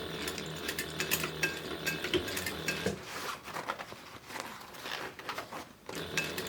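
A sewing machine stitches a 3/8 inch seam on a book bag, its needle mechanism rattling in quick, steady bursts that pause briefly near the middle before resuming.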